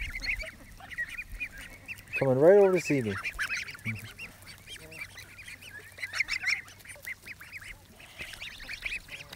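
Geese honk nearby at a pond edge, one loud honking burst standing out over lighter calls and outdoor background noise, with a person speaking softly in between.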